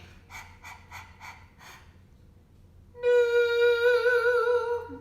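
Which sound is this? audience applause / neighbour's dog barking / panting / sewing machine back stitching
panting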